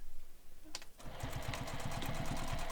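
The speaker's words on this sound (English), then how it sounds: "I'm just going to sew back and forth 2 rows of stitching" A sewing machine stitches back and forth across a bag, starting after a quiet second and running as a fast, even mechanical chatter of needle strokes.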